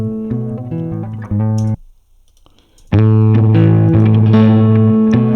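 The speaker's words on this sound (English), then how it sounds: "Now that I've loaded the plugin, let me turn it off. This is the guitar." Clean electric guitar notes and chords, played with the effects plugin switched off, ring out loud and close, pausing briefly before a sustained strummed passage resumes.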